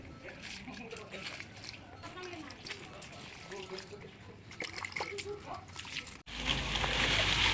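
Water pours and splashes steadily onto soil and leaves of a newly planted serut bonsai, getting louder toward the end, with a voice talking faintly underneath.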